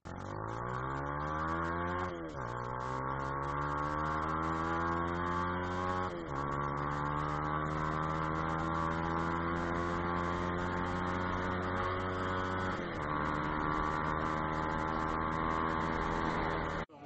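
An AKT Evo R3 150cc motorcycle with a Yoshimura high-compression exhaust, revving up through gears in three long rising sweeps with brief dips between them, a loud, buzzing, close engine note that continues without speech.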